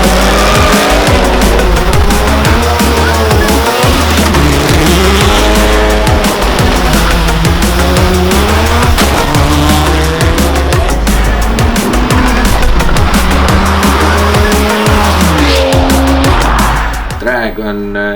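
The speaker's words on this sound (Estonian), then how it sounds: "Drag on kiirendusvõistlus ehk siis sõidetakse autoga otse kiiresti" Drag racing cars at a Tartu drag race accelerating loudly and continuously, engine pitch sweeping up and down through repeated gear runs with tire squeal, close and dominant for the whole stretch, with speech faintly underneath.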